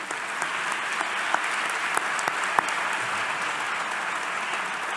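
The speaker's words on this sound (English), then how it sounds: "A big applause for everyone." Steady audience applause fills a hall at an academic conference's closing plenary and ceremony in Athens, a dense continuous clapping with a few sharper claps standing out, without any speech.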